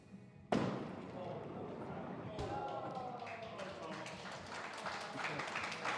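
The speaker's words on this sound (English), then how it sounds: "Good round of applause." Applause at a live skittles match between DASS and Find the Gap breaks out suddenly with a sharp thud and builds into sustained, fairly close clapping from a crowd, with a second swell partway through.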